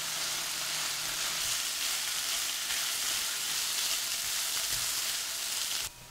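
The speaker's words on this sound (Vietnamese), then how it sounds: "Và mình tiếp tục xào cho đến khi cái phần thịt và rau củ này nó vừa chín tới," Meat and vegetables stir-fry in a hot pan, giving a steady, dense sizzle close up with faint stirring scrapes underneath, then the sound drops abruptly at the very end.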